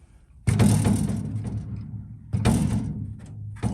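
The door of a 1953 MG TD sports car is swung shut twice, each a close mechanical clunk with rattling hardware that decays, then a third closing begins at the end; no voices.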